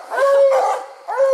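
Two bluetick coonhounds howl on a night coon hunt. Two close, loud, drawn-out bawls are separated by a short pause.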